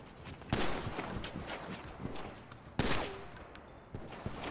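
Gunfire in a GTA roleplay gang war against the Crips comes as two sharp, loud bursts a couple of seconds apart over quieter scattered shots and background rattle, fairly distant overall.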